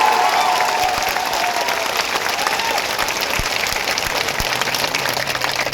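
A rally crowd at a political gathering in Tharad claps steadily and densely for the whole stretch, a loud, sustained wash of many hands with a few faint voices mixed in.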